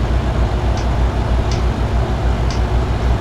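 VW Meteor truck in Euro Truck Simulator 2, a steady loud engine drone and rumble held throughout, with faint high hiss blips recurring about once a second.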